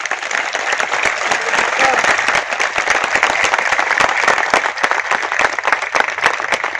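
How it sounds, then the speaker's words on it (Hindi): Vigorous audience applause at a motivational speaking event in India, with dense, loud clapping that carries on steadily for nearly seven seconds. "एक जोरदार तालियों के साथ"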